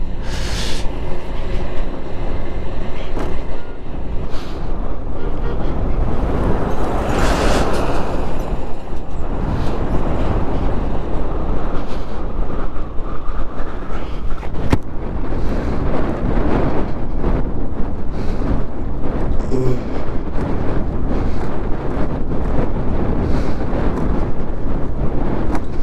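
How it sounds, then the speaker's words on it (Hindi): Strong wind buffets the microphone at the high Chang La mountain pass, a loud, continuous roar and rumble with gusty surges that lasts throughout, and no voices can be heard. "हवा बहुत तेज चल रही दोस्त"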